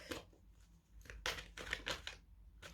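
Tarot cards being shuffled by hand, a run of papery riffles and soft slaps in uneven bursts, close and fairly quiet with no talking.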